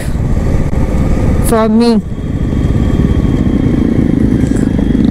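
A Jawa motorcycle engine runs on a ride through the Rann of Kutch in Gujarat, a steady, dense rumble lasting the whole stretch while a person briefly speaks over it.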